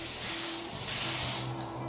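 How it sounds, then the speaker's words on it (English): Kiss by Red hairspray sprayed from a can around a hairline during a wig install, a steady close airy hiss in two bursts with a brief pause between, against a faint background hum. "go ahead and spray some hairspray. This Even Red, Kiss by Red hairspray."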